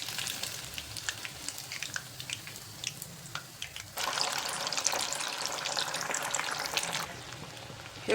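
Malai soya chaap fries in a pan at home, giving a crackling, bubbling sizzle of hot oil that steps up sharply midway and stays busy until near the end, with no talk.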